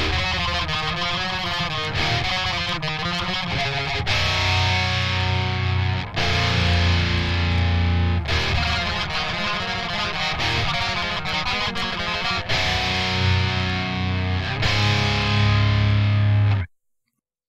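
Heavily distorted electric guitar with a Swedish death metal tone plays loud, chugging riffs in sections separated by brief stops, ending abruptly; no voices.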